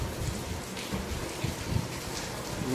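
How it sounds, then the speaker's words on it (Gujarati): Rain falls steadily over a flooded city after about five hours of continuous downpour, a soft, continuous wash of drops at moderate distance with no voices. "વરસાદ ચાલુ થયો ખુશીનો માહોલ જ કહેવાય."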